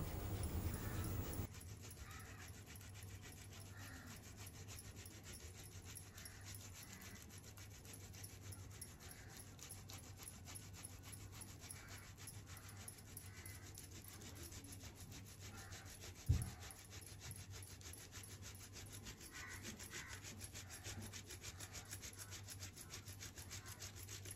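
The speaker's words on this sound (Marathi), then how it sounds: "त्यानंतर त्यामध्ये उकडून घेतलेले बटाटे आहेत ते खिसून घेऊया" Boiled potatoes grated by hand for a sago-potato chakli mixture, giving a quiet, steady, rhythmic rasping that scrapes on continuously with no talking.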